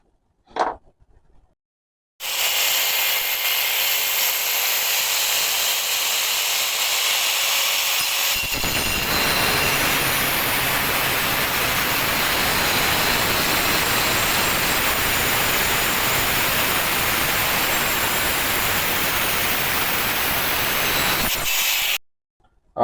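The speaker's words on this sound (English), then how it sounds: "So time to grab the angle grinder and get into it." An angle grinder cuts through a metal DIN rail in a long, loud, continuous high whine with a gritty rasp, starting abruptly after a quiet moment, shifting tone partway through, then stopping sharply.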